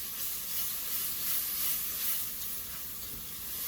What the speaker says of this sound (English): we're going to stir in the garlic and the tomato paste